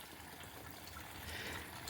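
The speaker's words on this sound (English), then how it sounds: "it's a mountain spring" Water trickles from a mountain spring in rural Pennsylvania, a faint, steady, close splashing and gurgling with no voices.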